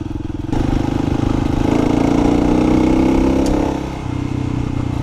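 A 2024 Kawasaki KLX300 dual-sport motorcycle engine drones steadily while riding on a creek route, loud and close with a rhythmic thumping that rises slightly mid-clip then eases, without talking.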